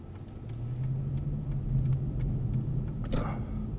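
A Lexus LS 430 sedan accelerating toward highway speed, a low steady engine and road rumble heard from inside the cabin, rising slightly, with a brief rattle near the end.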